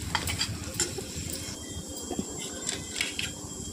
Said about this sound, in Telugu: లైట్ బ్రౌన్ కలర్లో వచ్చాక అందులో కొద్దిగా పసుపు వేసుకొని మనము కలుపుకుందాము.